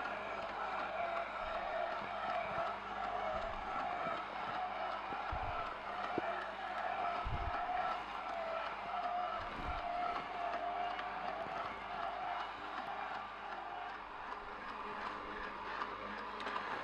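Sana EUJ-808 juicer pressing golden melon, a steady mechanical whir and grinding hum that runs at even loudness throughout, with occasional low thumps and no talking.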